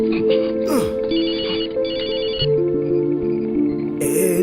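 A phone's ringback tone repeats in electronic pulses over a steady hum, with a couple of short bright chirps.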